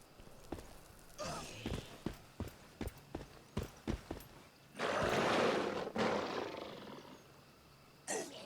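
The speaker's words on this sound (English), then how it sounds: "Now here's the wolves." Wolves in the survival video game Once Human: a string of sharp thuds and growling bursts, then a loud sustained snarl or roar, a pause, and another short burst near the end.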